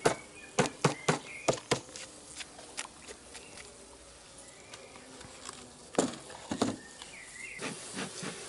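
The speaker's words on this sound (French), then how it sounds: "Je fais descendre toutes les abeilles dans le corps pour qu'elles aussi elles reçoivent un petit peu de Varromed." Honeybees in a hive during a spring varroa treatment with Varromed give a steady, soft buzzing hum, broken by several sharp knocks and clicks near the start and again around the middle.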